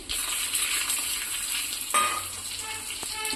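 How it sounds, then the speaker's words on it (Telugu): Garlic frying in a pan with cumin and dried chilli sizzles steadily and close, with a couple of brief stirring clinks of a utensil against the pan partway through. "ఈ లోపల నేను వెల్లుల్లి ఫ్రై చేసుకుంటున్నాను అలాగే కొంచెం జీలకర్ర"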